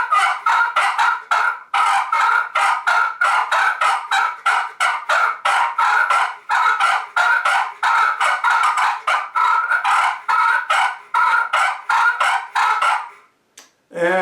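Rapid, raspy turkey purrs and clucks from a hand turkey call imitating two tom turkeys fighting, in continuous agitated bursts, loud and close, with a short pause and a final burst at the end.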